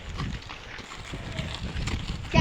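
A horse's hooves clip-clop in a muffled, uneven rhythm during a first riding class, mixed with wind-like rumble and some background noise, moderately loud throughout.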